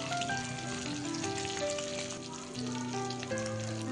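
Eggs frying in a pan for a spicy egg masala curry, a dense steady sizzle close up that runs on without a break, with faint scrapes of stirring.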